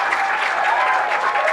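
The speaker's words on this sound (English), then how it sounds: "The crowd comes to life." A bowling tournament crowd applauding a strike, dense steady clapping that fills the whole moment, loud and close with no gaps.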